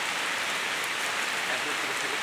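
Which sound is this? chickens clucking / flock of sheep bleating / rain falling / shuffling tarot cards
rain falling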